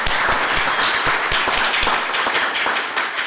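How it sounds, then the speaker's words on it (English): Applause fills a church service, steady and fairly loud clapping from a congregation that holds throughout and tapers slightly near the end. "So can we give them all a big clap?"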